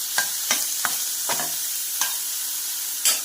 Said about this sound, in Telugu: ఆనియన్స్ తరిగి లైట్గా వేపుతాను. దీనిలోకి పన్నీర్ ముక్కలు వేస్తాను.